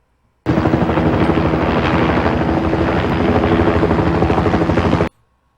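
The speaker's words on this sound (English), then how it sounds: "Can you imagine if I just left that annoying helicopter sound going for like the entire video?" A loud helicopter drones steadily with a rapid rotor thump, starting abruptly and cutting off a few seconds later.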